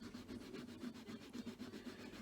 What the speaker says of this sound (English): Just to take off any burrs that might be there.